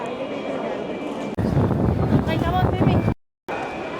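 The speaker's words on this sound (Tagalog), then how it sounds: "Yung hangin, sobrang lakas." Strong wind roars and buffets the microphone loudly for a few seconds in Rome, a voice talking underneath, before a sudden brief cutout.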